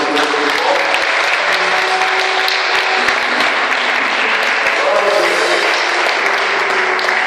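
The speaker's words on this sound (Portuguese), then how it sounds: "Se eu creio, vamos aplaudir" A church congregation applauding during a Portuguese-language worship service, loud dense clapping sustained steadily throughout, with scattered voices and faint tones mixed underneath.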